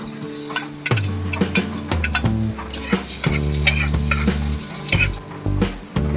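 Garlic frying golden brown in a little oil in a pan, a bright continuous sizzle broken by repeated clanks and scrapes of a metal spatula stirring, close and with no voices.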